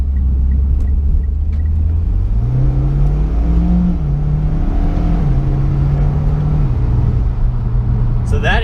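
A Mitsubishi Evo X MR with a twin-clutch gearbox and all-wheel drive accelerates hard, its engine rumble climbing in pitch through quick shifts, heard from inside the cabin while someone talks over it.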